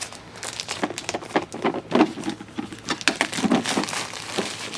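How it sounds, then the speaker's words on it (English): Packaging of a TEKTON 4950 half-inch drive impact socket set is torn open, giving continuous close crinkling, rustling and tearing of plastic and cardboard with short crackly bursts. "Let's rip this open."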